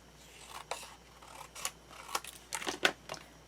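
Scissors snipping through paper while trimming a craft piece for an undersea-themed display box and mini album, a series of short crisp cuts, close and fairly quiet, with no talking.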